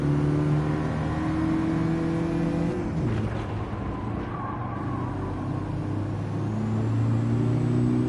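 Engine revving of a race car in the Gran Turismo 7 racing game, a steady loud drone with pitch sweeping up and down through gear changes and a dip near the middle, no talk.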